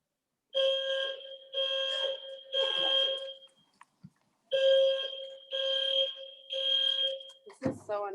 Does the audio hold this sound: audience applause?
no